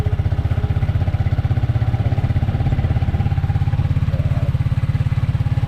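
A motorcycle engine runs close by with a steady, rapid low putter throughout, loud and constant, with no talk over it.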